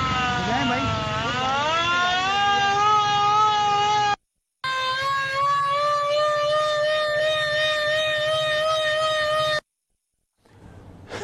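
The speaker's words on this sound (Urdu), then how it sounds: "سائرن جو بجایا گیا" A World War II-era civil defense air raid siren wails loudly, first rising in pitch and then holding a steady harmonic tone, cutting off briefly before a second long sustained wail.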